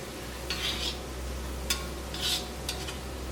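Fried onion and turmeric in oil being stirred in a pan for prawn biryani, a soft background sizzle with a few scraping spoon strokes and a light clink, close but quiet.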